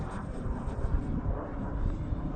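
A Pocket Rocket RC plane flying at full throttle in windy conditions, a steady droning roar mixed with buffeting wind noise on the microphone, continuous and fairly distant, with no voices.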